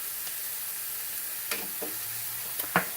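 Garlic sizzles in butter alongside browned mushrooms in a pan, a soft continuous frying hiss with a few brief stirring scrapes and spatters.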